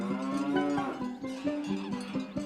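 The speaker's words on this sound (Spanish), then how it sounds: "Si ya nos encontramos con ganado vacuno pastando en este paisaje de alta montaña" Cattle grazing in an Alpine high-mountain meadow moo repeatedly, several loud, drawn-out bellows overlapping one another, close by and with no talking.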